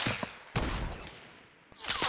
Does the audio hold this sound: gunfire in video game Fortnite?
yes